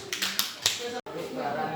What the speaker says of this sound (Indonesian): Oke, terima kasih pada kelompok Malona. Oke, kita berikan aplaus.